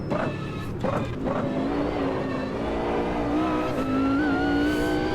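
A GT1 race car in Automobilista 2 brakes and drops gears approaching Murray's corner: loud, continuous engine roar with rapid blips and falling pitch between shifts, then a steady climbing whine, no voices over it.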